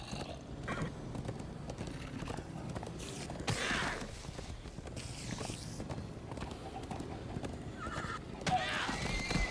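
A horse whinnies a couple of times over clip-clopping hooves and a busy Minecraft: Story Mode soundscape, moderately loud amid rumbling movement.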